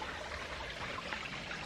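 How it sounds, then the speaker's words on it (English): A creek on an 1893 rural property flows with a steady, close rushing babble, an even wash of water noise without pauses or voices. "The creek actually veers up through there."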